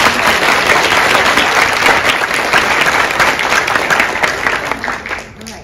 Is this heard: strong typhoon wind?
no